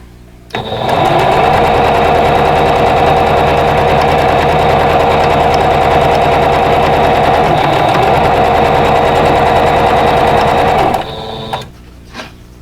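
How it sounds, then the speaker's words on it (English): Sewing machine stitching quilt block pieces, one loud, steady, close whirring run with a fast mechanical rattle for about ten seconds, then a brief stop and a short final burst. "Make sure I sew it to the correct side."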